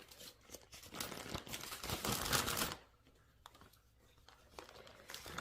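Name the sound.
plastic baggie being handled and filled with seeds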